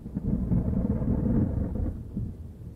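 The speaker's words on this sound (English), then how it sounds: "dark clouds, pouring rain, and a few bursts of thunder" A night thunderstorm around a small plane in flight, with heavy pouring rain and deep rolling thunder rumbling steadily and loudly throughout, no voices.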